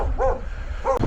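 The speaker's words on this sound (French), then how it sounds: "Oui, c'est les chiens de chasseurs" Hunting dogs tied up near a mountain trail bark twice, two short, fairly close yips about half a second apart.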